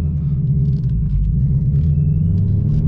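Deep, steady rumble from a boosted 2019 Ford Mustang Bullitt V8 accelerating hard in gear, loud and close from inside the car, with a faint whine rising above the heavy engine drone.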